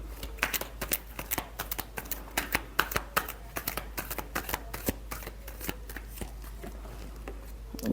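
Tarot cards being shuffled by hand, a quick run of crisp riffling flutters and soft slaps close up, repeating in irregular bursts over a low steady hum, no talking.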